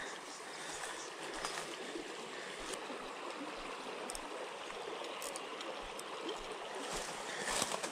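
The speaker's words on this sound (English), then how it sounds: "Bit of fresh water coming down the river" Fresh river water flows in a Tasmanian trout stream with a soft, continuous rushing and trickling, faint and steady, with no voices.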